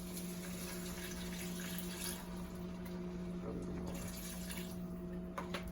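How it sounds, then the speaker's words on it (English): About half a cup of vegetable stock is poured into a pan of browned sausage for a cabbage dish, making a soft, continuous liquid hiss and splash, quiet and close, for several seconds. "So now we can take our vegetable stock. We're gonna pour about half a cup of it in here."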